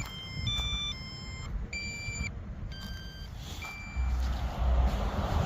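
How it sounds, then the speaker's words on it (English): An RC jet transmitter gives repeated high, steady electronic beeps as its battery runs low, in short irregular bursts over a constant outdoor rumble of wind and engine noise. "Got the transmitter beeping all crazy."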